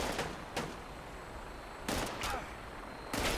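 Gunfire at a helicopter in Fallout 76 comes as several separate bursts of sharp shots, spaced over a few seconds against a steady background rumble.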